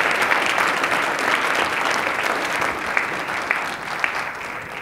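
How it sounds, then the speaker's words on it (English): An audience at a Black History Month celebration gives a round of applause for students receiving academic excellence awards: a full, steady roar of many clapping hands with a few sharper claps standing out near the end. "Please give them a round of applause for our students."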